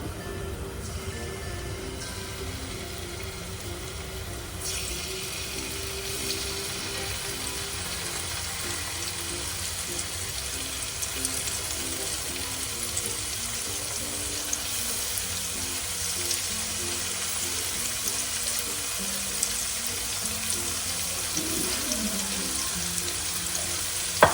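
Tofu fries in hot oil in a pan, producing a continuous, even sizzling hiss at moderate volume that lasts throughout, with faint clinks and no voices.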